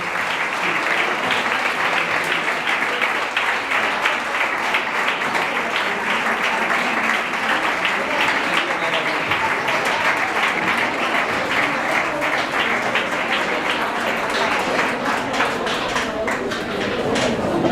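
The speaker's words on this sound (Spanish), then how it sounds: "Un fuerte aplauso para ellos." Sustained audience applause fills a hall at a teachers' retirement ceremony in Maracena, with steady loud clapping throughout and faint voices mixed in.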